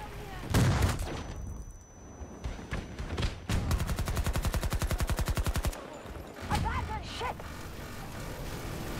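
Automatic gunfire in a Battlefield 2042 match: a rapid, evenly spaced burst of close, loud shots rattles for about two seconds, with scattered single shots and explosive cracks before and after, while a voice talks over the action.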